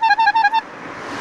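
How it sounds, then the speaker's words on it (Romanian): A bicycle horn honks four quick times in a row, close and loud, then gives way to a steady hiss of outdoor traffic noise. "Și claxonul?"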